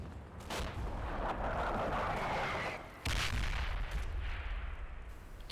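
Heavy artillery barrage in the wartime game Combat Mission, Operation Epsom, a continuous rumbling roar of explosions with a fresh loud blast about halfway through, sustained and dense with no talk.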